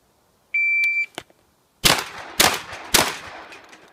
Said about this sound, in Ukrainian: І лунає сигнал таймеру.